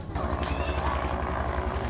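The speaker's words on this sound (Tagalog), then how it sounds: "tuwan-tuwa pa si Ipang nakakita ng helicopter" A helicopter flies overhead, heard as a steady low, pulsing rotor thump with a whining engine tone above it, fairly close and continuous, while people talk quietly in the background.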